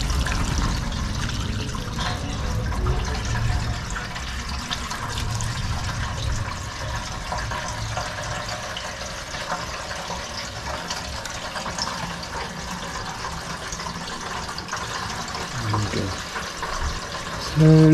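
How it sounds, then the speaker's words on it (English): Fuel steadily poured into a small 14-litre car gas tank during a slow fill, a continuous liquid rush and gurgle running close and moderately loud from start to finish with no talking. "this last step here is just filling up the gas tank"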